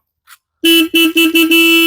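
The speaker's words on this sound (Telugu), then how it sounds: "ఇక్కడ వింటేజ్ హార్న్ బటన్" A 1982 Royal Enfield Bullet motorcycle's vintage horn honks in a short burst, then in several quick toots that run into one long steady blare, with nothing else heard.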